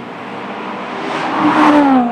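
A sports car engine accelerates hard on a race track, its pitch rising steadily as it roars past nearby, growing louder toward the end.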